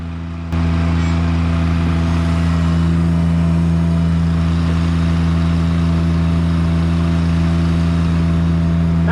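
A Haulotte lift's engine and hydraulics hum loudly and steadily after a sharp onset as its outriggers retract, a close, constant drone with a strong low tone.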